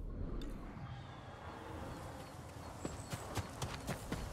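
Horse hooves in the video game Ghost of Tsushima clip-clop steadily at a trot, the sound growing sharper toward the end, with no voices.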